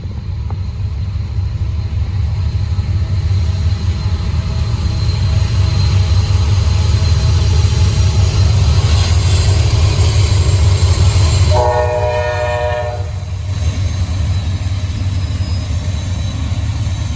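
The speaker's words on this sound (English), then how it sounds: "And this is my first train of the day." A Norfolk Southern train rumbles past close by with loud, continuous wheel and engine noise, and a horn blast sounds partway through.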